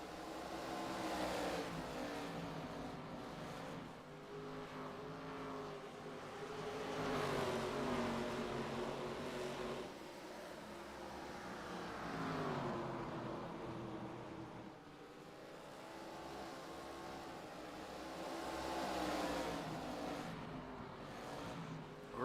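ARCA stock cars race in the iRacing simulator at Five Flags, their engines roaring and swelling in repeated revving waves as they run side by side. The sound stays fairly faint and continuous with no voices.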